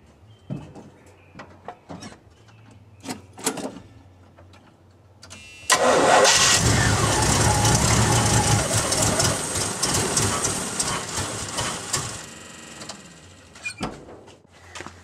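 A 1976 Chevy C30 dually truck with a failed choke pull-off vacuum diaphragm: a few clicks and short bursts, then the engine fires and roars loudly, settling into a rough, steady run before cutting back near the end.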